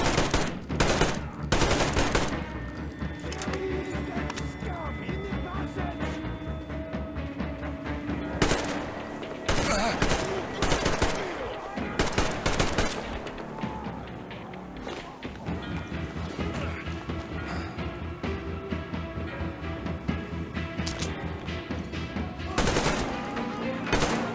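Gunfire in the shooter video game Metro Exodus: bursts of automatic weapon fire and single shots with crashes and impacts, loud and dense across a frantic firefight, with a voice briefly under the action.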